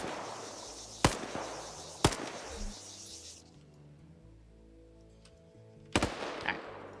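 Three sharp, loud gunshot cracks from an RPK in a PvP video game, spaced about a second apart and then a longer pause, each with a short echoing tail over low rumbling game ambience.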